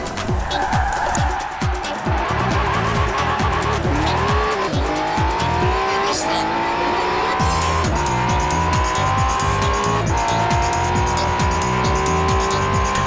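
An Acura NSX driven hard on a test route, engine revving through rising and falling gear pulls with tires squealing in sustained high whines, loud and close throughout.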